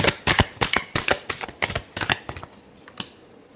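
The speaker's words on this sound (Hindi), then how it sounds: "last shuffle" A deck of tarot cards being shuffled close up in a quick run of sharp riffling bursts that slows and thins toward the end, with no talking.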